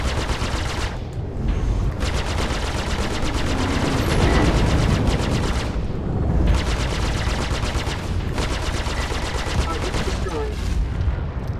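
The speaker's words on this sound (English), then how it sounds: "Oh, I forgot how beefy these guns were." Super Hornet ship guns in the space game Star Citizen fire in long, rapid, dense bursts with short pauses between volleys, loud and close, and a voice speaks over parts of the shooting.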